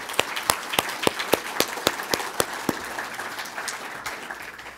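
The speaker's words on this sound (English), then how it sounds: "So if we could give them a round of applause." Audience applause at an All My Relations community gathering, starting with sharp individual claps and thickening into a steady, mid-level wash of clapping that slowly fades, with no talking over it.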